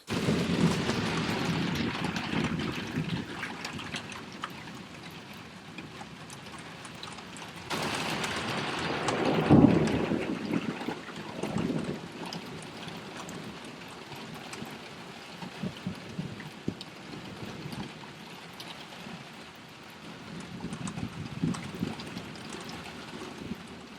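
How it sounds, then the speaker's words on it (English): Heavy summer thunderstorm with a steady loud downpour hissing on surfaces, and a rolling rumble of thunder swelling partway through, no voices. "Now it's pissing it down with rain, even heavier."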